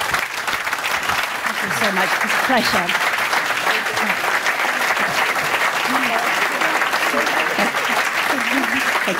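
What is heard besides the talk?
audience applause for debate speakers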